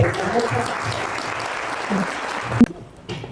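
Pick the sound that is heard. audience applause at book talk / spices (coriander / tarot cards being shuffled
audience applause at book talk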